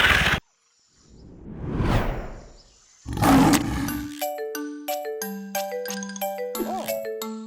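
A lion roar sound effect from a children's coloring animation: one drawn-out roar swells and fades, then a whoosh and a run of bright, descending chime tones ring out clearly.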